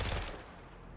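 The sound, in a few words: gunfire in video game Forever Winter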